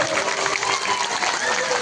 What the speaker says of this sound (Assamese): হাত তালি দিয়ক